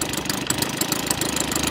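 A small OS IL-300 model engine converted to run on gas with a 20:1 fuel mix idles below 700 rpm, a steady close-up putter with an even, unbroken rhythm and a faint knocking texture, no voices.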